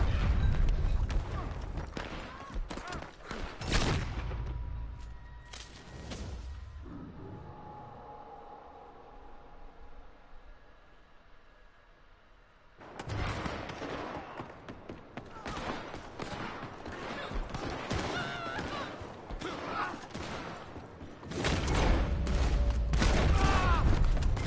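Double-barrel shotgun fire in Red Dead Redemption 2 Online, with loud booming blasts in bursts at the start and again through the second half, separated by a quieter stretch.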